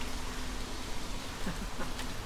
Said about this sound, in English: And it's starting to rain and the skies are blue.